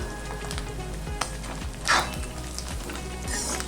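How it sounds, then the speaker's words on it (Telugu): Chicken pieces fry in a pan over cooked egg for chicken fried rice, giving a steady close sizzle with a brief louder hiss burst midway over a low background hum. "1 నిమిషం పాటు వేపుకోవాలి."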